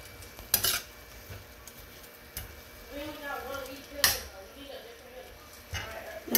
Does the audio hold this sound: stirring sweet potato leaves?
yes